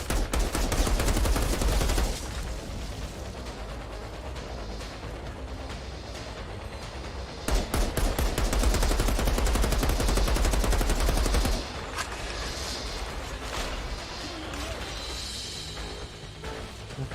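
Rapid sniper and automatic gunfire in the video game Outriders Worldslayer, a loud, dense stream of shots with bursts that intensify mid-way and then ease into lighter, scattered firing.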